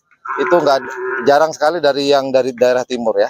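Cattle at a karapan sapi bull-race paddock moo loudly and close by in long, drawn-out calls, while someone talks between and over them.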